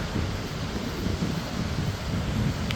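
Strong storm wind on Bermuda roars steadily into the microphone, a constant low rumbling buffeting with no other clear sounds.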